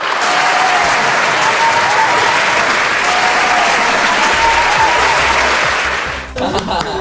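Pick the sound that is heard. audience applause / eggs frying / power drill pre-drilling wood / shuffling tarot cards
audience applause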